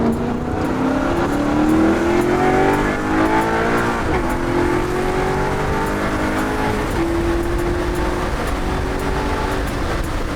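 A Maserati GranTurismo Sport accelerates through a tunnel, its engine note climbing through several gear changes with a booming, echoing roar, loud and continuous, with no talk.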